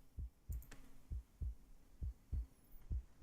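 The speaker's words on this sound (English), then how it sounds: "A heartbeat. Right outside the door." A low, thumping heartbeat sound effect in the game Reverse 1999 repeats in a steady double-beat rhythm, about eight beats, muffled and close with a faint hum beneath and no voices.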